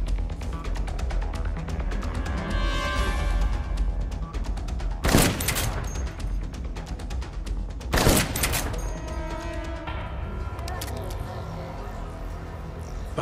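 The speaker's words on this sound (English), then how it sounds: "Someone's shooting from the floor above." Gunfire comes from the floor above in the video game Dead Rising, repeated bursts of shots with two sharp, loud blasts standing out against a steady background of game noise.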